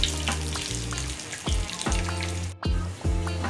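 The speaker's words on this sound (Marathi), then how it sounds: "आणि सर्व बाजूने मिरची छान अशी फ्राय करून घेऊया।" Stuffed capsicum peppers sizzle steadily in a hot pan, the crackling frying broken by a few sharp pops and stirring clatters, close and clear with no talking.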